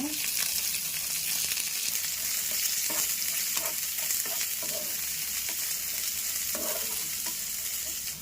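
Onions sizzling in hot oil with mustard seeds, garlic and curry leaves for a bitter melon stir-fry, a steady bright frying hiss with scattered pops and occasional stirring scrapes, close and continuous with no voices.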